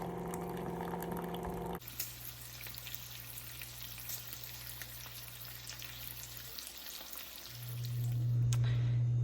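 Bacon and eggs fry in a pan with a steady close sizzle and crackle over a low electrical hum, the frying noise growing louder toward the end; nobody speaks.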